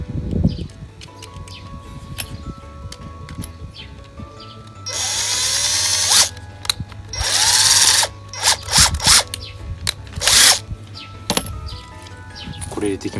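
A power drill bores a hole through the middle of a farming sickle, with loud bursts of drilling broken by pauses and short tool noises, a steady low hum underneath throughout.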